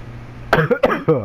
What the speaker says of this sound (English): Sounds like I got a fucking death cough.